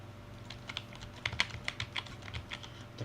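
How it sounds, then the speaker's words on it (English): Quiet, irregular clicking of fingers typing on a membrane computer keyboard during a Diablo 4 gaming session, soft key presses arriving in uneven bursts over a low steady hum. "The problem is I use a membrane keyboard."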